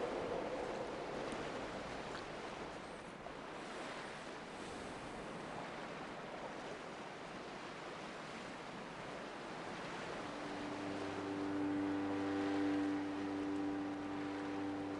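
Wind gusts over open water in the game Dear Esther, a soft steady rushing hiss like surf that swells slightly toward the end, with a faint sustained tone entering late and no speech.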